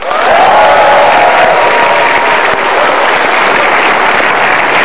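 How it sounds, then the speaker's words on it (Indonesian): A studio audience in Indonesia applauds loudly and continuously, a dense sustained wash of clapping with some faint crowd voices mixed in. "Kita berikan tepuk tangan yang meriah sekali lagi untuk Tatalu."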